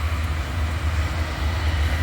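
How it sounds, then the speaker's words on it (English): A freight train passes through Abbeville, South Carolina, its steady low rumble and rolling wheel noise continuous and loud, close by, with no pause and no voices. "God sent me a train to film"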